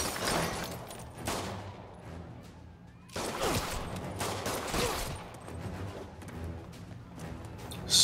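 Gunfire bursts from the video game Marvel's Spider-Man, a dense, continuous fusillade of rapid shots with sharper volleys around the middle, loud and sustained throughout with faint speech mixed in.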